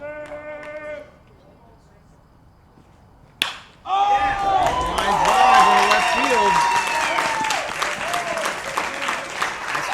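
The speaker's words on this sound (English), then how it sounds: "we actually have some crowd noise tonight" At an American Legion baseball game, a crowd breaks into sustained applause and cheering after a quiet stretch, with scattered shouts and voices mixed in.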